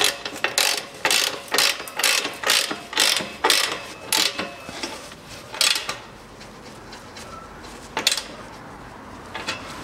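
A ratchet tightens an exhaust clamp under a 2011 Range Rover Evoque 2.2, giving rhythmic bursts of sharp clicking strokes, loud and close, that slow to a few isolated clicks toward the end.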